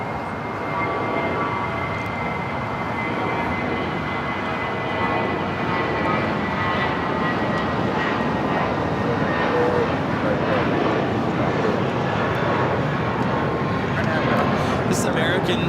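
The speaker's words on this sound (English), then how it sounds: "This American 319 taking off to St. Louis" American Airlines Airbus A319 departing LAX for St. Louis, a sustained engine roar holding steady and near for the whole stretch, with talk running over it.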